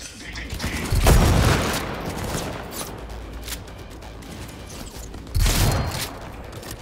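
Two heavy sawed-off shotgun blasts in Cyberpunk 2077, several seconds apart, each a loud, broad boom with a short rumbling tail over a low background of game noise.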